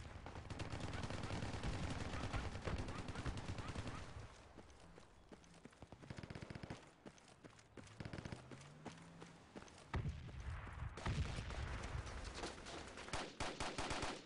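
Gunfire in the tactical military shooter Project Reality, dense bursts and shots at the start, then quieter stretches broken by scattered cracks, and heavy firing again near the end, with brief voices amid the fighting.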